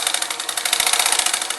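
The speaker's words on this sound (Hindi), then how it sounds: "मशीन को 5 नंबर के सिलाई में चलानी है" A sewing machine running fast at stitch setting 5 while attaching a fall to a saree, a rapid, even mechanical chatter of stitches, close and continuous.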